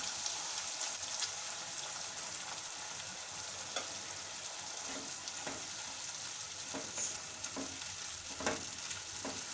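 Broccoli and a spoonful of water go into a hot, sizzling pan of Broccoli Manchurian gravy on a low flame, producing a steady, loud sizzle with occasional stirring scrapes throughout and no talking.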